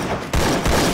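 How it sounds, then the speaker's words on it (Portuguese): Rapid bursts of gunfire in the video game Free Fire, loud and dense, in two back-to-back volleys with no talk. "Tô levando tiro."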